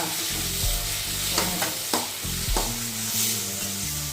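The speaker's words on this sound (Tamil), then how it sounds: "வெங்காயம் வந்து கொஞ்சம் வதங்கட்டும் இப்போ தக்காளி சேர்த்து" Onions and tomatoes sautéing and being stirred in a pan for a butter beans gravy, with a steady close sizzle broken by several sharp scraping stir strokes, no voices.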